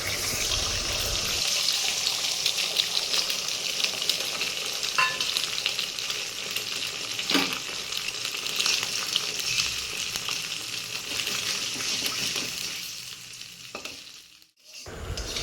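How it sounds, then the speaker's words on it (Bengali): An egg sizzles steadily in a hot pan, with occasional light scraping. The sizzle briefly dips near the end. "এবার আমরা ডিমটাকে ভালো করে ভেজে নেব"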